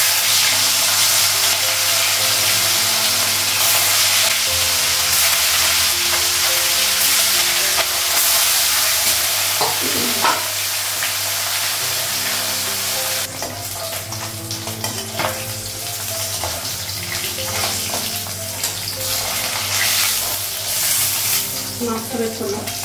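Fish pieces fry in a pan of hot oil, a dense continuous sizzle with a hum underneath, intensifying partway through with crackles and occasional utensil scrapes, close and steady with no talking.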